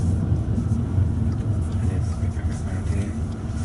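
An Audi A3 Sportback rolls along slowly at about 10 mph, giving a steady, heavy low engine and road rumble from inside the cabin that holds at an even level throughout.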